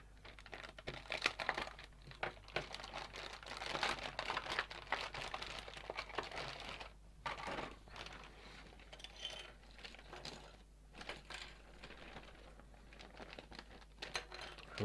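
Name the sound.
cutting open plastic packaging of a model kit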